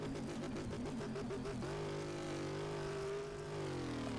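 A 1973 Chevrolet Blazer K5 sleeper with 1300 horsepower in Car Mechanic Simulator 2018 revs hard, first in choppy pulsing bursts, then a sustained loud droning engine roar as the wheels spin, with no talk over it.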